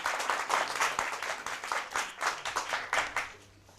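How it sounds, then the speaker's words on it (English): Audience applause for a correct answer at a school math championship, a steady burst of clapping from a crowd that fades toward the end. "A round of applause for the SDA Academy."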